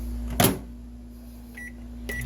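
A microwave oven hums steadily while sterilizing a dish sponge for about thirty seconds, with a door or latch clunk near the start and two short beeps toward the end.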